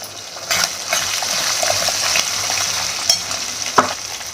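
Green chillies fry in hot oil for a masala dish in a festive Ugadi lunch. A steady, close sizzle runs throughout, with brief louder crackles and spatters, and no talking.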